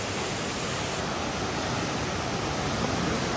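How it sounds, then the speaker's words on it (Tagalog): Strong floodwater current from a typhoon makes a loud, continuous broadband rush that is dense and unbroken throughout, with no voices. "Malakas ang agos wave guys, oh."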